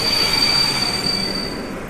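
A train in an animated Batman parody screeches with sustained high metallic wheel squeal over a dense rumbling roar, loud and continuous throughout.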